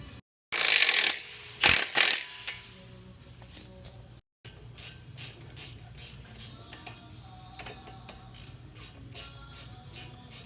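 A ratchet loosening bolts on the suspension of a 2025 Acura Integra Type S, a loud burst of handling noise followed by long runs of rapid close clicking pawl ratcheting, steady and alone without talk.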